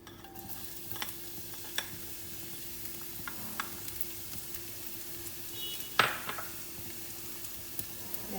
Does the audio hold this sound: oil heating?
yes